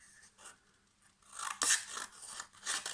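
Scissors snip through a strip of paper, a few quiet, close, crisp cuts with a brief crunchy rustle, no talking.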